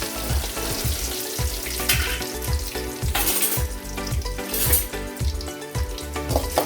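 Chana dal, urad dal, curry leaves and dried chilies frying in hot oil in a pan, a continuous close sizzle with rhythmic scraping stirs.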